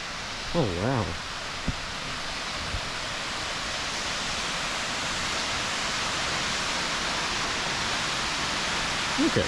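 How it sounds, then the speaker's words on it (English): Fitzroy Falls waterfall at a lookout near Sydney gives a steady, broad roar of falling water, constant throughout with a brief voice near the start. "Look at that waterfall."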